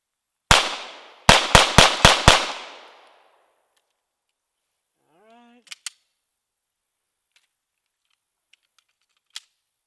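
A CZ P-10 pistol fitted with a TLR-1 light fires one loud shot, then five rapid shots in quick succession, each with a short ringing decay. A brief voice and a few faint clicks follow in near silence.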